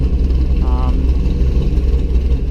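A Chevrolet Corvette C5 Z06, about 500 rear-wheel horsepower, idles steadily at around 950 rpm, its low, even rumble loud and close throughout, with a brief faint tone rising partway through.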